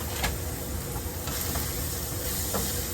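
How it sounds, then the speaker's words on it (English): Flour being stirred into hot grease in a pan to make a roux for gravy, a continuous loud sizzle and hiss with faint scraping strokes throughout. "We're going to add in about 2 tablespoons of flour so we can make a roux"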